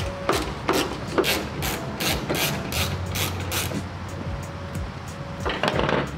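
An 8mm socket wrench ratchets as tail light bolts are backed out on a 2007-2010 Ford F250 pickup, giving close, repeated bursts of quick mechanical clicks with brief pauses in between.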